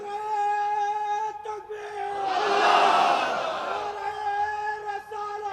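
A crowd at a religious gathering responds with a loud, swelling chant of the takbir, a mass of voices rising and fading over a sustained tone from a microphone.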